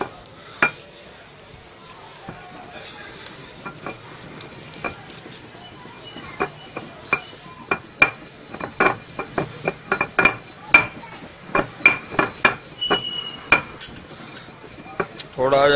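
Saffron being ground into powder, a series of sharp clinking, knocking strokes that speed up into a steady uneven rhythm, close and moderately loud with no talking.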